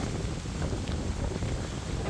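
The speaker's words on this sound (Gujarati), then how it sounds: "પવન બહુ સારો" Steady wind buffets the microphone in a continuous low rumble on a farm field during fertilizer sowing, with no voices and no pauses throughout.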